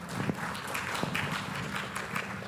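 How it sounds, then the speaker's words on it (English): Conference audience at a property agent summit applauding: steady, moderately loud clapping from a crowd, a dense patter of many hands with a few sharper individual claps standing out. "Give yourself a round of applause."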